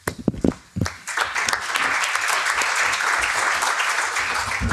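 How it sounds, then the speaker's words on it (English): At a social economy policy event, an audience welcomes a speaker with applause. A few scattered claps come first, then within a second it swells into full, even clapping that carries on to the end. "Round of applause, everybody"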